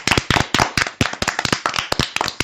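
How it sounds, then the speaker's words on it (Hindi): Children clap for a friend who gave a correct answer, a short burst of quick, loud, uneven claps close by. "तो बच्चों, अपने इस दोस्त के लिए जोर से तालियां बजाओ।"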